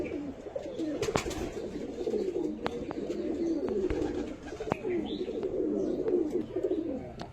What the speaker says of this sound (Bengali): এটা মাদা পায়রা আপনাদেরকে দেখাচ্ছি।